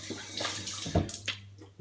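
Cold tap water runs steadily into a bathroom sink while someone rinses their face after a safety razor shave, a continuous close splashing hiss with brief louder splashes as hands move through the stream.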